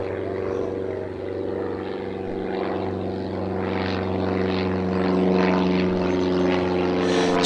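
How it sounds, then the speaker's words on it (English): A general aviation propeller aircraft at Bristol Airport gives off a steady droning engine hum with a low tonal rumble, fairly constant and moderately loud throughout, with no voices. "Another little bit of general aviation going on here."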